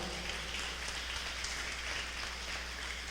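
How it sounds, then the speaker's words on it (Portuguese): A church congregation applauding, a dense, steady wash of many hands clapping throughout, even and continuous with no voices standing out. "dê para Jesus a maior e mais rica salva de palmas"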